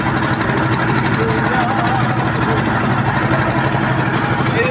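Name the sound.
fishing ship engine running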